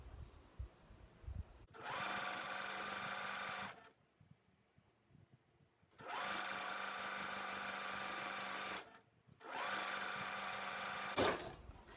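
A sewing machine stitches the cuff hem of jogger pants in three steady, close bursts, each lasting a couple of seconds and separated by short quiet pauses.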